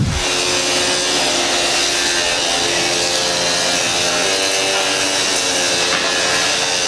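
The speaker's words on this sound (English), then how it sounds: "There's some double pulse MIG action on the Pro Pulse 300." Double pulse MIG welding on aluminum with a Pro Pulse 300 welder during a jet boat build gives a loud, steady, crackling buzz that runs close and unbroken.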